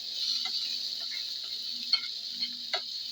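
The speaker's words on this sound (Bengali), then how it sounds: "এই দেখেন পেঁয়াজ গুলা ভেজে নিতেছি" Onions frying in a pan for pangas fish bharta give a steady close hiss of sizzling oil, with a few soft clicks of stirring; no one speaks.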